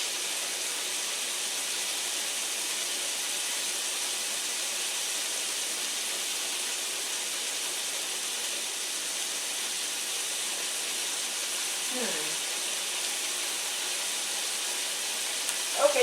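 Onions, parsley and sage fry in a pan with a steady, even sizzle and hiss that runs unbroken for the whole stretch, moderately loud and close, with a small clatter near the end.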